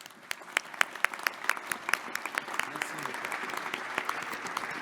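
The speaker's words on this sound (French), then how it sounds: "je pense que ça mérite encore une fois nos applaudissements et nos" An audience at a New Year's greetings ceremony applauds, starting with a few distinct, sharp claps that quickly swell into a dense, sustained wash of clapping from a large crowd.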